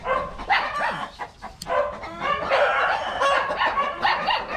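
Rhode Island Red chickens, two to three months old, on a farm, a dense steady din of clucking and crowing with dogs barking in the mix, continuous and fairly close.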